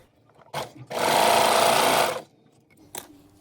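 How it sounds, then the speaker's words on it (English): A serger stitching a stretchy neckband onto a leotard bodice in the round: a couple of short whirs, then a loud, steady mechanical hum lasting about a second before it stops, and a final brief burst. "now we're going to serge that in the round"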